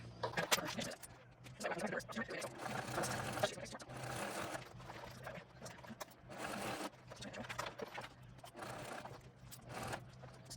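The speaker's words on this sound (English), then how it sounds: "just go around and sew this side onto the bag" A sewing machine stitching the side panel onto a backpack, a rapid steady whirring hum in repeated runs with short pauses between them, close and moderately quiet.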